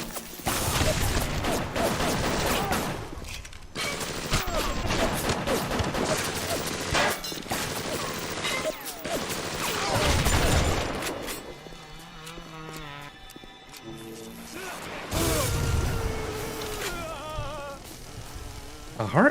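Rapid bursts of armor-piercing gunfire in the shooter game FEAR, loud repeated volleys with short gaps between them and busy game noise underneath.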